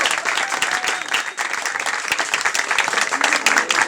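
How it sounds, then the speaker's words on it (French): An audience claps warmly and steadily for a newly graduated pastry chef at a community gathering in Salazie, the dense applause filling the room throughout without a break. "C'est une nouvelle pâtissière, elle est récemment diplômée, qu'on applaudit très fort."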